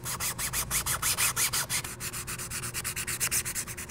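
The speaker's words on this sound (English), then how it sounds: "Both these pieces got sanded down to 220 grit." Hand sanding of 3D-printed foregrip parts for a Fat Man mini-nuke launcher prop with 220 grit sandpaper, a close, steady run of quick rasping back-and-forth strokes with no talk.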